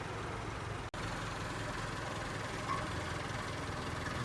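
A tractor engine runs steadily during hay baling, a low, continuous mechanical drone heard from a distance with no breaks.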